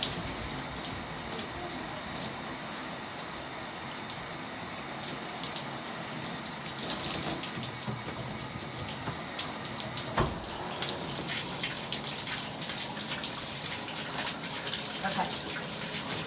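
Tap water runs steadily over curly hair during a rinse, a continuous broadband hiss and splash with small shifts in flow and occasional handling sounds, close and fairly quiet.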